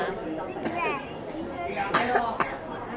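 A young child eating small cakes coughs a few short times among children's chatter and talk nearby.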